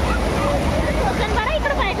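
Fast-flowing water rushes and churns around people wading through it, a loud, continuous turbulent wash heard up close, with a voice talking over it.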